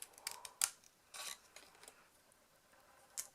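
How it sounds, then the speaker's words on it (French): Scissors snip through paper in a few quiet, crisp cuts, with a brief pause before a final snip near the end. "mes ciseaux ont découpé jusque dans l'angle"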